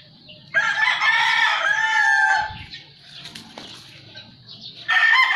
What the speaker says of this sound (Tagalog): ito po yung aking brood cock na pumpkin hatch